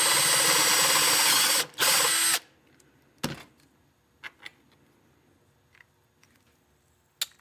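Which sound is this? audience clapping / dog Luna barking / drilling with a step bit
drilling with a step bit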